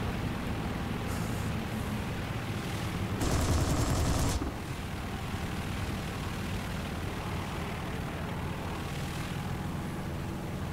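Aircraft machine-gun fire in a flight combat video game, a single loud burst of about a second over a steady engine drone, with no talk.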